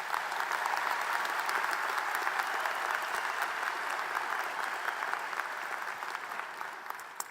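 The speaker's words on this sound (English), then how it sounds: "Let's give a round of applause" A large crowd claps steadily at a nursing and health professions graduation ceremony, sustained, even applause that fills the whole stretch at a moderate distance.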